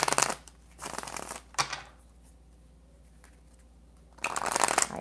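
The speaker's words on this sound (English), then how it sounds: "All right, one more shuffle." Tarot cards are shuffled close by in papery riffling bursts, one at the start and a brief one after a second, then a quiet pause before a louder final flurry.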